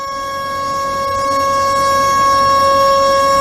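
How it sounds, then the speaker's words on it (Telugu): A steady, droning civil defence siren tone holds one pitch and slowly grows louder, sounding alone with no voices. "ఇదే సైరన్ రేపు వినిపించబోతోంది."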